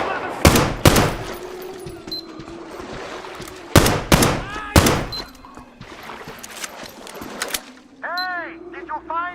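Gunfire in Metro Exodus, Sam's Story DLC: sharp, loud single shots in separated bursts with ringing metallic echoes and clinks between them, while voices talk intermittently underneath.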